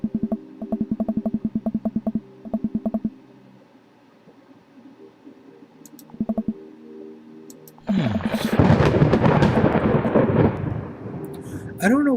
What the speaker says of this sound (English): I don't know why they're doing this thunder thing.